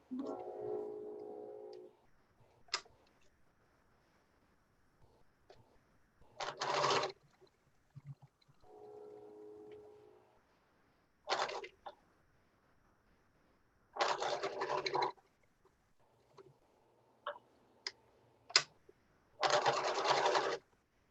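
A home sewing machine stitches a no-elastic face mask made from a t-shirt, running in several short bursts of a second or so each, separated by pauses, with a voice talking between the runs.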